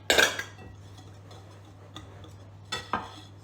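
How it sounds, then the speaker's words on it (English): Dry cake ingredients with coconut being stirred in a mixing bowl, with a clattering scrape at the start, faint soft scraping through the middle, and two more clinks of utensil against bowl near the end, under a steady low hum. "So then we'll mix that all together."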